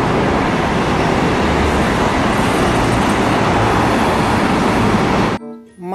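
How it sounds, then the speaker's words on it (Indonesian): Steady loud road traffic from a passing bus fills nearly six seconds with a dense engine and tyre rumble, then cuts off abruptly near the end. No one speaks. "Mobil bus."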